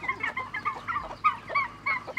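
Chickens on a Cebu farm raising heritage and Lohmann strain birds, with turkeys nearby: repeated clucks and short calls close by, coming in quick irregular bursts, several birds overlapping with no talk.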